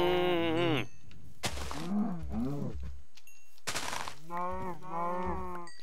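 Minecraft cows lowing in a game: several drawn-out, harmonic moos in a row, each a second or less, with short gaps and percussive hits between, loud and close with no talk.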